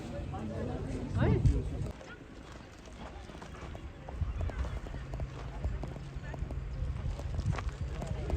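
A horse's hooves clip-clop along a path at Muktinath in Mustang, an uneven run of close hoof strikes with a louder burst early on, while people talk over and between the steps.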